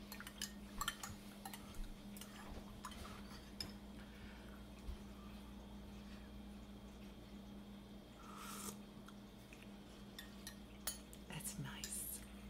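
A spoon stirs generic Aldi stevia sweetener into a cup of English Breakfast tea, giving quiet, scattered clinks and scrapes against the cup over a steady low hum.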